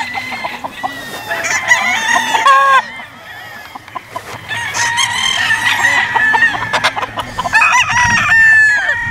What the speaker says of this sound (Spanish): Mira qué chulo gallo.